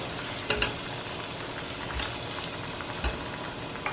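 Finely chopped garlic fries in butter in a pan with a steady, close sizzle, broken by a few soft stirring knocks.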